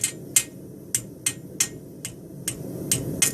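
A hammer strikes a steel horseshoe in sharp, ringing blows while shaping a straight bar shoe, around nine hits at an uneven but brisk pace, close and clear with no speech.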